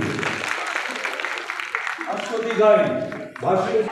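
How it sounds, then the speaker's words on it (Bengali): Audience applause at a civic health-department event in Naihati honouring ASHA workers, a broad crowd clatter filling the first seconds before thinning out under amplified voices and tones. "আপনারা করতালি দিয়ে অভিনন্দিত করুন।"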